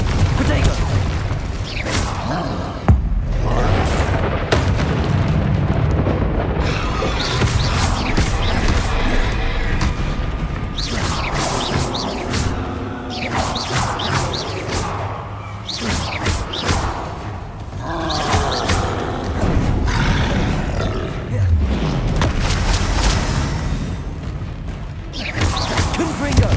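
Booming explosive spell blasts and heavy thuds during a troll fight in Hogwarts Legacy, loud and continuous, layered with rumbling combat effects and someone shouting spell names.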